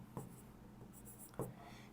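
An equation is written by hand for a trigonometry lesson, with soft pen strokes and two sharper taps, close and faint, and a faint voice in the background.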